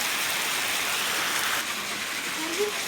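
Rain falls and drips steadily in a rural Punjabi village setting, a dense, even hiss of drops on surfaces continuing throughout with no clear pauses.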